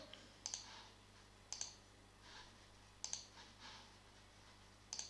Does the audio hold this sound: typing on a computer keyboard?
yes